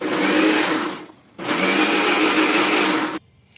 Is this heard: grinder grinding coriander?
yes